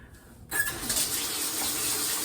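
Tap suddenly turned on after a brief quiet moment, water gushing steadily and close into a sink for hand washing in a home kitchen.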